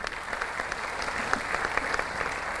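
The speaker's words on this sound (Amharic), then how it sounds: "እባካችሁ ለተወዳዳሪ ተማሪዎች ሞቅ ያለ ጭብጨባ አድርጉልን" Audience members at a student quiz competition in Arba Minch give the competing students steady, moderately distant applause that holds without a break for a few seconds.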